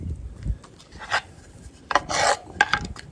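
Shaking excess spice rub off a flat iron steak before it goes on a broiler rack, heard as a few short dry rasping and rubbing bursts, close and fairly loud with quiet gaps between them.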